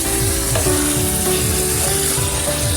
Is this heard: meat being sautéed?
yes